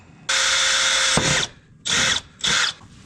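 A power drill whirs loudly and close in three bursts, one long run followed by two shorter ones, with brief pauses between, as it bores a hole.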